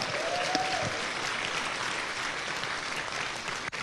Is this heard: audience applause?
yes